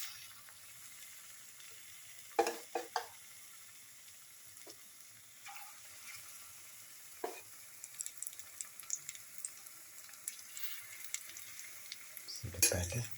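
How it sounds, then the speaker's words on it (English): Chickpea flour batter fritters fry quietly in hot oil, giving a soft steady sizzle with scattered crackles and pops. A few sharper clinks of utensils are heard, and the clip ends with a louder clatter. "Set a batter and let it fry."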